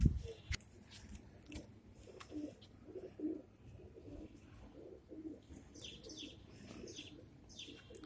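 Kasni pigeons in a Bhopal loft give faint, soft coos, with light scuffling and occasional sharp clicks against quiet background noise.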